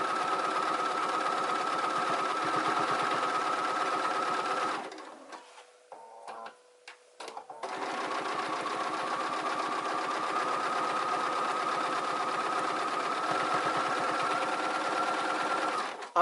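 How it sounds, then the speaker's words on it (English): A sewing machine runs steadily while topstitching a garment, a fast even whir that drops out briefly for a few seconds in the middle before resuming at the same pace, close and alone. "I'm going to go ahead and finish this top stitch"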